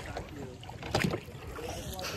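Rowboat being rowed on open water, with soft splashes and oar strokes amid wind noise, faint and low in level, with a brief louder stroke near the middle.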